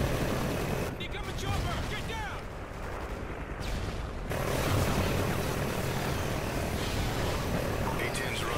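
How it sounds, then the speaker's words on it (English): A-10 Warthog aircraft passing overhead in the Call of Duty Ghosts video game, a dense roaring wash of engine noise mixed with gunfire-like bursts, fairly loud and continuous apart from a brief dip in the middle. "A-10 drones on route, ETA 30 seconds."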